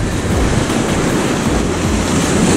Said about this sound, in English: The waves are really small, not much power